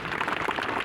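Audience applause from a seated crowd at a talk, a short burst of dense, steady clapping heard alone at moderate volume.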